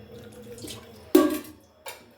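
A short splash of water poured into buttermilk-thinned pudla batter, a brief burst near the middle and a smaller splash just after, close and fairly quiet.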